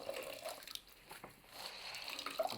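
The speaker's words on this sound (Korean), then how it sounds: "물기를 꼭 짜주세요." Water squeezed out of a wet cloth being wrung by hand before natural plant dyeing: a faint, soft trickle and patter of dripping water, close by and quiet, with no talking.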